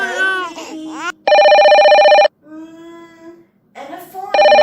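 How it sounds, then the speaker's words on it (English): Two bursts of a telephone bell ringing loudly, each about a second long, set between a baby crying and other child-like cries. "And a phone ringing."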